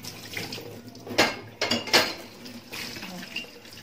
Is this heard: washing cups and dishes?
yes